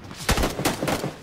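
A short burst of gunfire in the PUBG video game, fired at an enemy in the grass with the sight ranged at 300: two or three loud, sharp reports in quick succession, with no talk over them.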